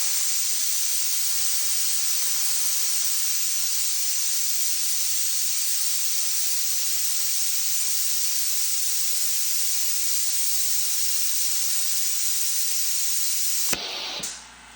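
A California Air Tools 20020AD air compressor runs steadily and close by for about fourteen seconds, giving a constant broad hiss that stops abruptly near the end.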